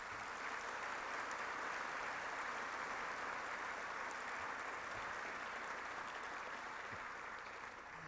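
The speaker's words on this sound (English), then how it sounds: "Let's give them a round of applause." Audience applause at a military medicine awards ceremony, a dense, steady wash of clapping from a large crowd that holds evenly for the whole stretch without any voices over it.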